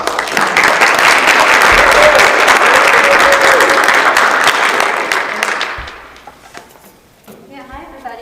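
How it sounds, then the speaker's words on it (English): A school board meeting audience gives a long, loud round of applause that fills the room for about six seconds before fading out, with a voice starting to speak near the end. "so let's give them a round of applause"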